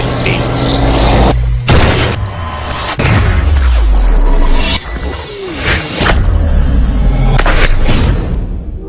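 Gunfire in a Deadpool movie fight scene: loud booming shots and blasts thunder close over a dense action soundtrack, with several heavy impacts spread across the scene.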